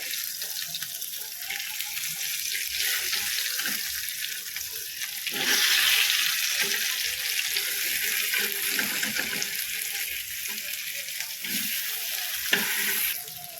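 Bangda mackerel frying in a pan, a steady broad sizzle and crackle continuing throughout with a louder surge midway and a brief clink near the end; no one speaks.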